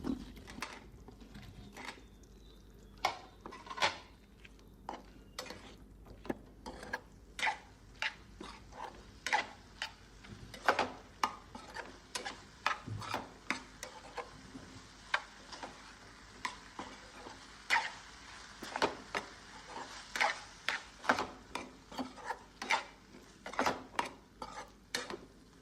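Spatula scraping and clinking steadily as potato balls for potato 65 are stirred into a spiced tempering in a pan, a continuous run of sharp metallic taps and scrapes over a faint sizzle, with no talking.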